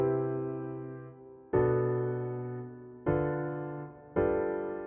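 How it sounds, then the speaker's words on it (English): Sustained synth chords of an RnB chord progression played in a beat-making program, four long held chords struck one after another, each swelling in and slowly fading, clean with no voices. "And then we start to get a chord progression that sounds like this."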